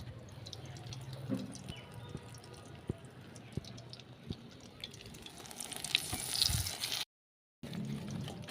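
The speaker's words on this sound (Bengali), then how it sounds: "এখন এই যে পাতাগুলা সে গুঁড়ির মধ্যে মাখিয়ে তেলে দিয়ে দিব।" Batter-coated leaves go into hot oil in a wok, giving faint crackles that swell into a bright, close sizzle near the end before a brief cut.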